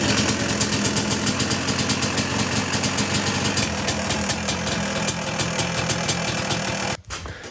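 KTM 250 GS two-stroke motorcycle engine running, a loud close rapid popping buzz that holds steady for several seconds before cutting off abruptly near the end.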